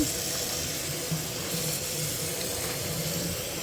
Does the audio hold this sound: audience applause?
no